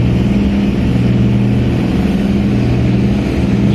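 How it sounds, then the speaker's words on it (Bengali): A passenger launch on the Ilisha–Dhaka river route passes at night, its engine a loud, steady low drone with a constant hum and rumble, close and unbroken throughout. "10 নম্বর লঞ্চ চলে যাচ্ছে।"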